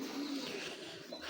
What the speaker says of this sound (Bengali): যারা মেন কবুতর খুঁজতেছেন, এগুলো হলো মেন কবুতর